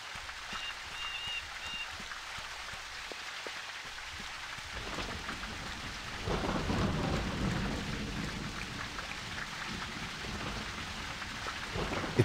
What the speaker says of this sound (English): It's really nice that it's dark and stormy.